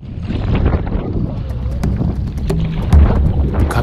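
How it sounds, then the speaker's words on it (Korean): Strong wind gusts through a river valley by an uninhabited island near Chungju during a packraft trip, a loud buffeting roar against the microphone with rushing water beneath. "갑자기 바람 소리가 점점 더 거칠어집니다."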